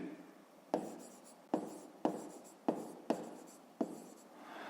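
Handwriting on paper during a fifth-grade maths exercise: about six quick scratching strokes, each beginning with a crisp tap, close and soft and heard alone.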